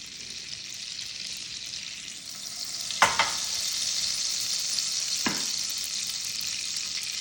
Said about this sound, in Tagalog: Ilagay ko na itong pan at nilagyan ko siya ng olive oil at ilagay ko na itong 1/4 ng butter.